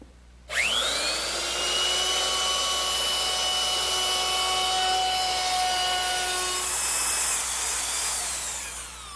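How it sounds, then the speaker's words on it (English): Router fitted with a 3/8 inch radius round-over bit spins up sharply and shapes the top edge of a wooden armrest, a loud sustained high whine with a rising tonal start, steady throughout. "rounded over the top edge of my armrest using my router and a 3/8 inch radius rounding over bit"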